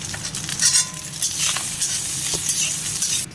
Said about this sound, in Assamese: এতিয়া কণীখিনি ভাজি লওঁ।